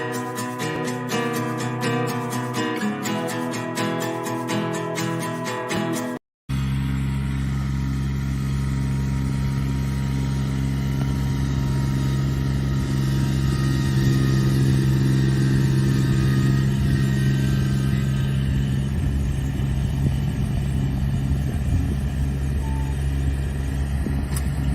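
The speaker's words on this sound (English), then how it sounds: "that field where they were using the tractor" A tractor engine works in a vineyard field, a steady low rumble that holds throughout after a brief cut near the start, with no talk over it.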